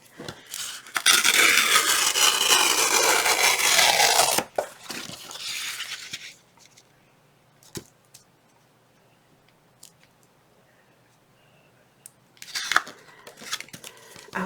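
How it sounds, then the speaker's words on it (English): Paper is torn along the edge of a tear roller while papercrafting, giving a long, loud ripping burst, then a quieter second pull, and a few short sharp tears near the end in an otherwise quiet room. "I'm just going to tear with my tear roller, but you could definitely cut them out however you want."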